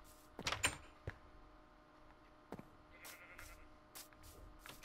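A few faint sheep bleats in Minecraft, short and scattered, come through amid quiet clicks and soft background noise.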